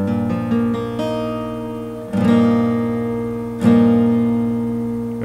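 Acoustic guitar strums an open chord shape, the first chord of a song, in three full ringing strokes, with quick picked notes at the start and each strum left to sustain and decay.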